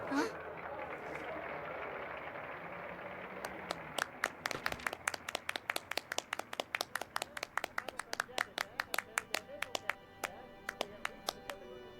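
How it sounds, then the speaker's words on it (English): Several people clap by hand in a quiet room, at first faint and muffled, then sharp, close, uneven claps in a steady run, with a voice speaking over the start. "Despite our clapping, this time, Dad never woke."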